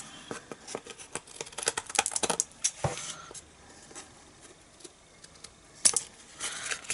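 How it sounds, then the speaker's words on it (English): Scissors snip away overhanging paper flowers from the edge of a handmade thank-you card, a series of close, crisp little cuts and rustles in irregular bursts, with a few quiet pauses between. "I'm just going to cut off anything that's overhanging with my scissors"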